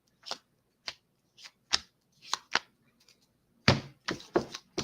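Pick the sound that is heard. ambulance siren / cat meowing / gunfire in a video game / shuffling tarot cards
shuffling tarot cards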